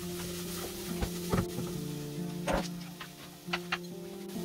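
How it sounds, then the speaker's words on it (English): Onions sauté with chilli and spices in a pan for vegan bolognese, a low sizzle broken by a few scraping stirs, while a steady humming tone runs underneath. "I'm going to saute that for a couple minutes more to let the onions soak in the spices."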